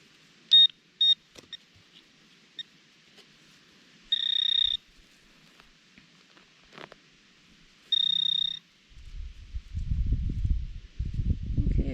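A Garrett AT Pro metal detector gives short tonal beeps, a few quick chirps then two longer sustained tones, with rustling and digging in soil following near the end.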